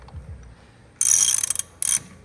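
A flare tool is cranked tight on hydraulic tubing for a lowrider pump setup, giving two bursts of close, bright ratcheting clicks separated by a short pause, with a quiet background.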